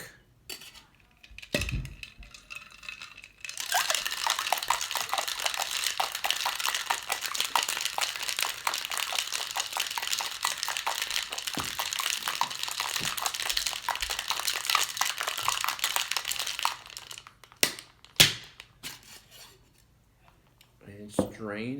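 A Yellow Bird cocktail shaken hard with ice in a metal shaker: a dense, continuous rattling churn lasts about thirteen seconds, framed by a few clinks and handling knocks before and after.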